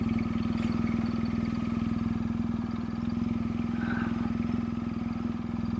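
Several motorcycles idle and rumble steadily at a campsite on a Yukon ride, a continuous close engine drone with faint clatter and no talk.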